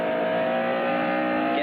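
NASCAR Craftsman trucks roar past at full race speed on an oval during a 2000 event, a loud continuous engine drone with a slight pitch sweep at the end, with commentary voices mixed underneath.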